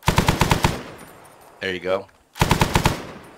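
Rapid automatic gunfire during shooting training in a video game, two loud close bursts of quick rhythmic shots separated by a brief pause in which someone speaks.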